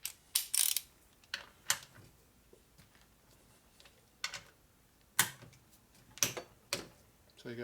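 A torque wrench set around 22 to 25 foot-pounds clicks while tightening cylinder stud nuts on an S&S 113ci Harley Evo motor, giving a series of sharp, close ratcheting clicks in irregular bursts with quiet gaps between.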